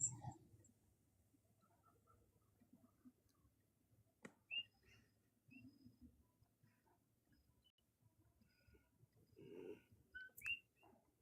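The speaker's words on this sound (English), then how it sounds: "Crows and frogs." Crow caws and frog croaks from a sound button toy, scattered faint calls and chirps with quiet gaps between them.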